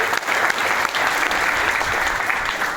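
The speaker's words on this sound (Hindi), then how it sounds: "एक बार जोरदार तालियां के लिए बजा दीजिए।" A crowd at a live talk gives loud, dense, continuous applause for a mentor, a steady roar of clapping sustained throughout without a break.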